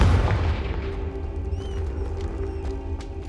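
The Confringo fire spell in Hogwarts Legacy erupts with a sharp booming blast, then settles into a sustained crackling, humming magical burn with faint high whistles. Nobody speaks.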